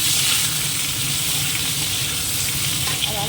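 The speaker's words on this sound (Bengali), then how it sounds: "আলুটা দিয়ে দিই, একটু ভেজে নেব আলুটাকে।" Potatoes fry in hot oil with two dried red chillies, giving a loud, even crackling sizzle close by with faint stirring underneath and no speech.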